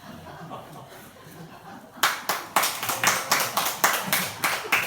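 A small lecture audience claps in a burst of applause, sharp overlapping claps starting suddenly after a murmur of background chatter.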